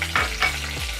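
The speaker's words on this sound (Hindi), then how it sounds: "हल्का सा भूनेंगे।" Whole spices such as dried red chili, cumin, cinnamon, cloves, cardamom and black pepper frying lightly in oil, a brief close sizzle with a couple of quick stirring scrapes, no voices.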